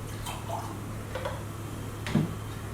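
Water dripping, a few separate soft drops landing at irregular intervals over a steady low hum, close and moderately quiet.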